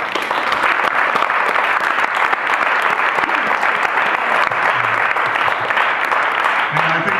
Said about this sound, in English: HTM crowd over here needs another applause